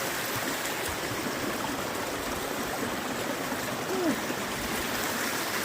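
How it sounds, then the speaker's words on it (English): Small mountain stream flowing beneath a trail footbridge rushes and babbles continuously, close and steady, with a brief faint bird chirp partway through and no talk. "Pretty stream coming down."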